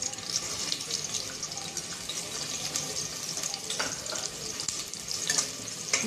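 Onions shallow-fry in about four tablespoons of hot oil for a veg biryani, a dense, continuous crackling sizzle heard up close and fairly loud throughout, with no voices.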